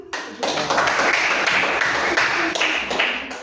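Students in a classroom clap their hands together in a brief, loud burst of applause that starts abruptly and continues with uneven, close-up claps, with no talking during it.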